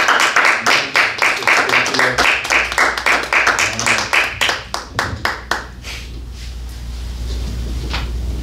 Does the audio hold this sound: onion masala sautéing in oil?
no